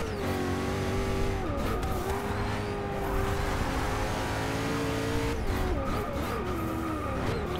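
A Koenigsegg Agera at Daytona circuit roars through a race lap, its engine note rising and falling steadily with brief tire squeal, loud and continuous from inside the car.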